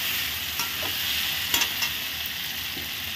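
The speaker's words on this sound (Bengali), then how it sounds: "দিয়ে এখন আমি এটাকে ভালো করে কষে নিব" Marinated soybeans fry in a pan with a steady, close hiss while a spatula stirs them, making a few soft scraping clacks over the continuous sizzle.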